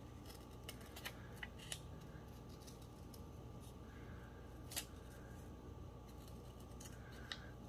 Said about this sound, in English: want to trim a little bit of this white border off